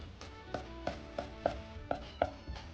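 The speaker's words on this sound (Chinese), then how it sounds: "大蒜和生姜1块，先拍破再剁碎" Sharp knife chops garlic and ginger on a cutting board, about eight evenly spaced strikes at a steady pace, close and clear with no talking.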